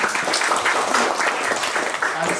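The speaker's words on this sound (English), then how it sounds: "Can I round of applause, please?" An audience at a conference talk on readable code breaks into applause, a dense steady patter of many hands clapping throughout at moderate volume.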